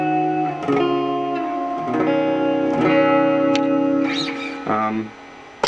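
Electric guitar chords played through a reverb pedal ring out with a lush, spacious reverb tail that lingers and blends between strums, played fairly loud with no talking.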